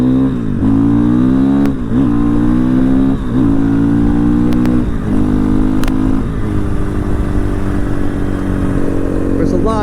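A KTM 500 or Honda XR650L motorcycle with a close-ratio six-speed gearbox accelerating hard, engine revs climbing and dropping at each quick shift, loud and close, under a rider's occasional talk.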